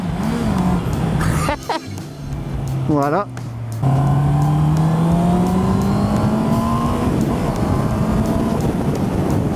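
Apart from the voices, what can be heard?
Honda CB650R 2019 motorcycle engine with stock exhaust while riding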